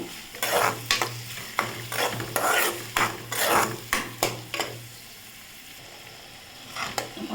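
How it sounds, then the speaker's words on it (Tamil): Onions sautéing in a pan for a bitter gourd gravy, with a steady sizzle broken by repeated scraping strokes of a spoon, about a dozen rhythmic stirs close by, then a brief lull before a few more. "வெங்காயத்தை சேர்த்து நல்லா வதக்கிக்கோங்க"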